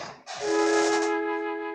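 Mellotron flute section in the style of a song intro, a single sustained breathy tone swelling in after a short pause and holding steady, close and alone.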